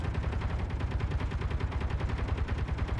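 Rapid, steady automatic gunfire from the video game Scrap, a fast continuous stream of shots sustained at even loudness throughout with no pauses.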